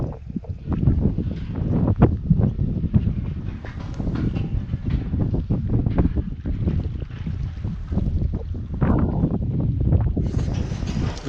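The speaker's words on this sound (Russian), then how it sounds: "сегодня тут просто чрезвычайной силы ветер" Very strong wind buffets the microphone on an Icelandic beach in the northern fjords, a loud continuous roar with gusty surges throughout.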